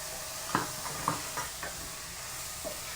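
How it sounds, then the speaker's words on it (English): Jasmine rice and beef are stirred in a pan: a few soft scraping clicks of a utensil spaced over a few seconds, set against a low steady frying hiss, close and quiet. "And I'm just going to stir this up."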